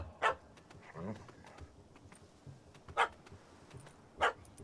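A dog barks in a Witcher 3 medieval village, three sharp barks spaced a second or more apart over a low murmuring ambience with faint background voices.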